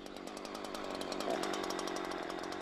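A Husqvarna chainsaw runs steadily at high revs, a loud buzzing drone with a rapid pulsing chatter that rises slightly partway through and holds without a break.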